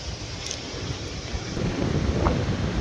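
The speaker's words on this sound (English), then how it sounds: "It's very windy." Strong wind buffets the microphone in a steady, heavy roar that swells louder toward the end, with no voices.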